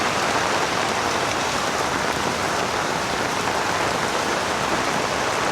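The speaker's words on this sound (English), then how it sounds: "To see it's raining non-stop" Heavy storm rain pours in Da Nang, Vietnam during Storm Wutip as a dense, steady hiss of drops hitting surfaces, loud and unbroken with no voices.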